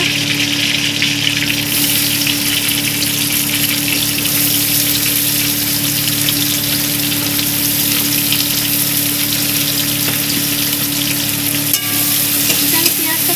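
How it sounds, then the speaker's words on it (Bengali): Two chopped onions hitting hot oil in a pan for a Bengali gandharaj prawn curry, giving a loud, steady sizzle and crackle with some stirring that carries on throughout, with no voices. "তেলটা গরম হয়ে গেছে, এবার আমি এখানে দিয়ে দেবো দুটো কুচানো পেঁয়াজ"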